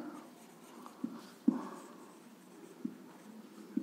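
Pen or chalk writing on paper during a geometry lesson on triangle area, heard as faint scratchy strokes with a few sharper taps, quiet and close, with no talking.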